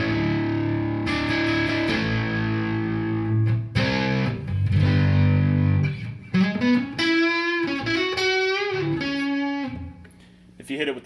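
Electric guitar with humbucker pickups played through a fuzz distortion pedal, thick fuzzy chords and sustained notes, loud and close, with a brief higher lead phrase near the end.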